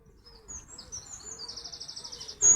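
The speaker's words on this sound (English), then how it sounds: "just the sound, the birds are so beautiful." Small birds sing and chirp in a quiet outdoor setting, with a fast rhythmic run of high trills near the end, fairly soft and with no talk.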